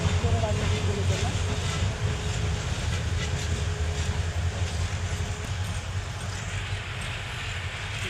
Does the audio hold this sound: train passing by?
yes